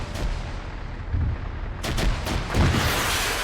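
Grenade machine gun fire in a military video game: a rumbling, continuous barrage of heavy booming impacts with several louder bursts layered over a dense roar, no voices.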